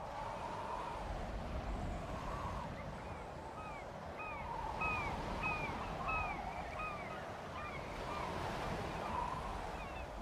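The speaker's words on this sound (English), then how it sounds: "So peaceful on the beach." Beach ambience in the video game Life is Strange: continuous surf and wind wash with a soft, steady roar, while seabird-like chirps sweep through the middle. No one speaks.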